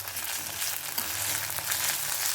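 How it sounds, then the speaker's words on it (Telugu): Onions and ginger-garlic paste fry in a pan for a Telugu egg pulusu with lima beans, giving a loud, continuous close-up sizzle throughout. "చూడండి వేగుతూ ఉంది కదా"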